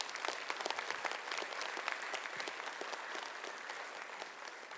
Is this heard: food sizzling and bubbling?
no